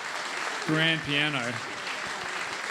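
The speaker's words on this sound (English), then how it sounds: "A round of applause for our fabulous new" An audience at a birthday concert on the Araluen stage applauds the unveiling of a new grand piano, a steady wash of clapping running under a voice speaking over it.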